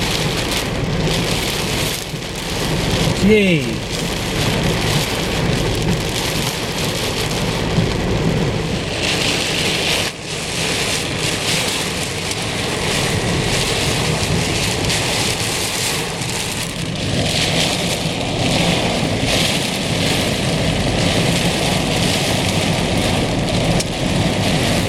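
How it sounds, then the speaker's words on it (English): Heavy thunderstorm rain pounding down hard at Patoka Lake, a dense, loud, continuous roar of drops hitting surfaces nearby, with a brief vocal exclamation near the start. "It's raining so hard."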